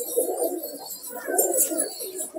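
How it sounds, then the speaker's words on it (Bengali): Benarasi pigeons cooing up close, steady throaty rolling coos repeating over a faint airy background hiss, with no voices. "দেখেন ওদের বেনারসি পায়রা একটা বেশ ভালো পায়রা"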